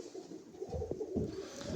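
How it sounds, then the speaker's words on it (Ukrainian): Yeysk double-crested red and red-mottled pigeons coo softly in low, throaty warbles, a couple of rolling calls close by against a quiet hum. "Такі голуби."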